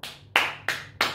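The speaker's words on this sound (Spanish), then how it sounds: "Aplausos para recibir a los jugadores del plantel profesional tras el gran esfuerzo ante Boca" Applause for professional squad players from Racing returning after a hard match against Boca, heard as three or four sharp, bright bursts of clapping in quick succession, close and fairly loud, with no talk.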